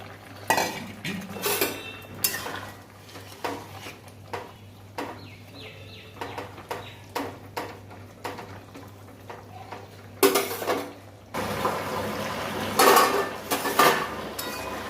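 Fritters going into a simmering pot of lentil and pumpkin-stalk curry, heard as a series of light clinks and scrapes of a spoon against the pot, with a louder bubbling rush near the end.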